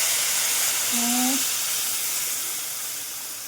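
Steady hissing sizzle as a little water is poured onto hot spice paste with mustard seeds in a pan, a continuous bright frying hiss that slowly fades, with a brief spoken word partway through.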